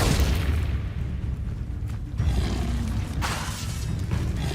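A Glacius ice spell in Hogwarts Legacy lands with a heavy, booming burst and a crackling, shattering wash, then a second surge follows, all loud and dense over a constant low rumble, with no voices.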